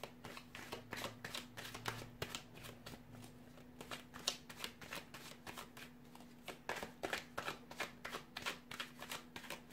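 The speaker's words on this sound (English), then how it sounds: "So we'll give the cards a shuffle here" A deck of tarot cards is shuffled close up, a rapid series of crisp riffling bursts and flicks repeating across the whole stretch with brief pauses, no speech.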